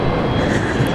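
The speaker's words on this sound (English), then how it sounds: "I hear a Fokker starting up." A Fokker airliner engine spooling up at an airport, a loud, steady broadband roar that fills the whole short stretch without a break.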